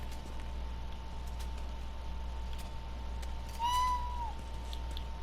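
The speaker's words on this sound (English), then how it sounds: "If you guys heard that, that's a cat." A single cat meow with a rising then falling pitch sounds briefly over a steady low hum and quiet ambient noise in a decaying indoor game environment from The Last of Us Part 2.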